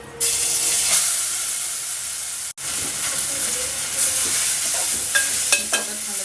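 Grated raw mango dropped into hot oil with cinnamon and cloves, a loud steady sizzle and hiss with stirring scrapes, a brief cut midway, then continued frying with small crackles.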